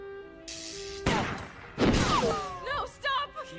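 Gunfire from an animated action series: a rapid fusillade of shots with sharp broadband bursts, mixed among dramatic music and strained voices.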